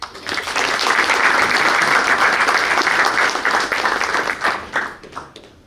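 An audience at a boys' varsity basketball banquet claps loudly and steadily, the applause thinning into scattered claps at the end.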